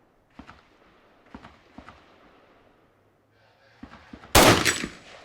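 A Beretta ARX100 rifle fires at a popper target at 100 yards, with several soft distant reports spaced apart, then one much louder sharp crack near the end.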